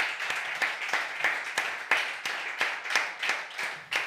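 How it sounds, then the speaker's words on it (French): Rhythmic clapping fills a radio studio, a steady run of sharp claps from a small group continuing evenly without voices. "Merci, on vous applaudit."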